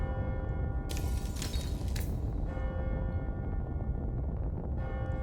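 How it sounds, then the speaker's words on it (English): A bell rings out at midnight in the video game AI: Nirvana Initiative, a few bright clangs near the start over a constant low ambient drone and tonal hum that carry on through to the end. "Is that a bell?"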